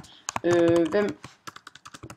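Close-up clicking of keys on a computer keyboard, with a burst of quick typing followed by a steady run of separate keystrokes, while a person speaks over the first part.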